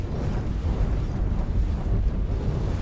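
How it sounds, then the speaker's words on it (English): A ship explodes in a video game, a dense, rumbling roar that stays loud and steady for a few seconds, heavy in the low end, with no voices. "Explosion imminent."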